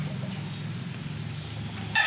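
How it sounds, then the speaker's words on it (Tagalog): Low chicken murmurs and clucks sit under a steady hum at a gamefowl farm, then a brief higher rooster crowing note starts at the very end. "Laking manok"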